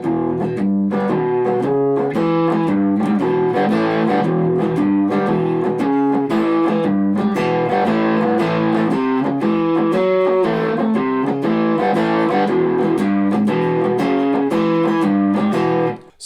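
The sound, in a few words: Squier Bullet Strat electric guitar, neck and middle pickups, distortion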